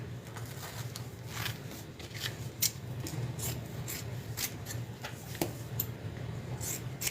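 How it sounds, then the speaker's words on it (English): Scissors snip repeatedly at close range while trimming material on a crossbody bag project, a quiet series of crisp irregular cuts over a faint low background hum. "I'm just going to trim this down a little bit"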